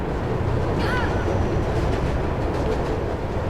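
Steady low rumbling roar of a moving train in the video game Mirror's Edge, loud and continuous throughout with a brief high metallic squeal early on and no talk.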